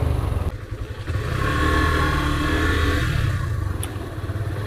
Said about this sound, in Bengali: অনেকদিন পর চালাচ্ছি বাইকটা